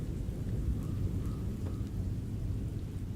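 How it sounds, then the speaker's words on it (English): Low rumbling thunder rolls steadily outside during rain in a spooky murder-mystery ghost hunt game, a continuous deep wash of sound with no talking. "I can't hear as well to see if everything's okay when it's thundering outside."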